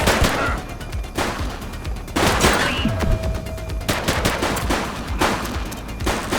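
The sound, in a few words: gunfire in a shootout, from The Precinct video game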